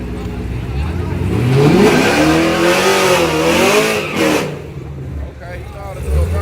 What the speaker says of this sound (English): he know how to do a burnout